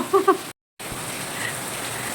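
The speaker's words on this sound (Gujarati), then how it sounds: "રોજ વરસાદ આવે છે" Steady rain hisses evenly and close by, a brief murmur opening the stretch before a short dropout, after which the soft, continuous patter carries on alone.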